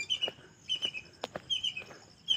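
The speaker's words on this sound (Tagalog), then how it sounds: "kumakanta yung ibon." A bird sings outdoors in short, bright chirping phrases repeated every half second or so. The calls are moderately faint, with no voices over them.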